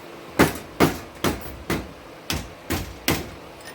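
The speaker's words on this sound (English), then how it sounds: "I'm going to hit it with a hammer." A hammer strikes a part during a Spartan locker install on a 2nd-gen Toyota 4Runner: seven loud, sharp metallic blows land at a steady, even rhythm, close by and alone.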